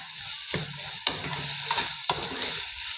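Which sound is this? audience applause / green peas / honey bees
green peas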